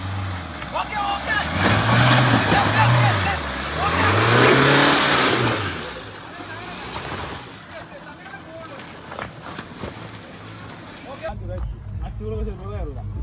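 An off-road jeep engine revs hard on a dirt track, surging up and down in repeated swells, then dropping to a lower rumble as people talk and call out nearby.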